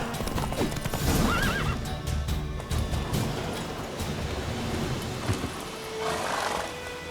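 A horse in The Witcher 3 lets out a loud, close whinny near the start, followed by continuous galloping hoofbeats running under steady background music.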